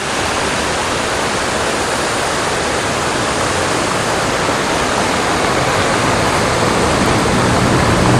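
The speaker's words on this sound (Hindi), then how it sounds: "झरने में जो पानी बह रहा है वो एकदम स्वच्छ है" A waterfall on the Shimla to Manali road roars in a constant, dense rush of water, loud and close, steady throughout with no voices.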